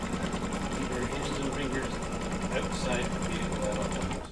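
An embroidery sewing machine stitching an in-the-hoop coaster, a fast steady mechanical rattle and whir running throughout, close and moderately loud, with voices talking over it at times.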